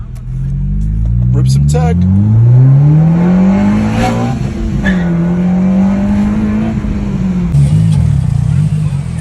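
A 9th-generation Honda Civic Si fitted with a Hybrid Racing kit revs and accelerates up through the gears with a rising engine drone and a faint tire squeal. Someone talks over it.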